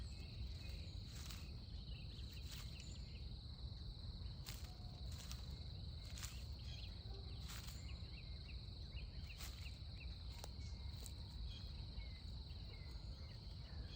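Crickets chirp steadily in the undergrowth beside a tiny pond, a faint, continuous high trill punctuated by brief louder bursts, with no talking.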